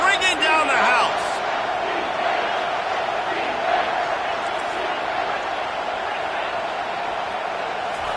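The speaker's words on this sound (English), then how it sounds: "this crowd is bringing down the house." A stadium crowd in an NCAA 25 college football video game roars in a loud, sustained wash that swells briefly at the start and then holds steady throughout.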